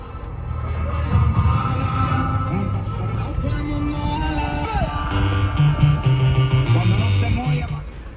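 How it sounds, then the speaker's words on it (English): Music plays through the small, tinny original radio of a 1994 Mercedes-Benz E320 Convertible, thin and boxy, with a melody wandering over a muffled low end. "Radio works. Certainly not the best sound system,"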